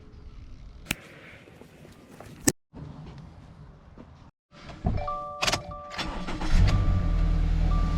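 A car engine with a battery that needs a jump start cranks and sputters trying to start, with clicks and a brief whine, then a rough low rumble as it catches near the end.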